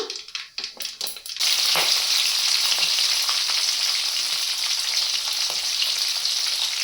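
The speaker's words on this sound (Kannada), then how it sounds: "ಈಗ ಹಸಿಮೆಣಸಿನ್ಕಾಯಿ ಹಾಕ್ಕೊಳ್ಳೋಣ." Green chilies dropped into hot oil for a carrot rice breakfast, a few clattering knocks followed by a sudden loud, steady sizzle that continues close and unbroken.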